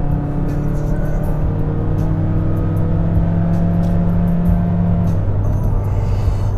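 A Mazda3 accelerating as the driver presses the throttle, a steady loud engine drone with rising tonal whine heard from inside the car, holding strongly throughout with no talk.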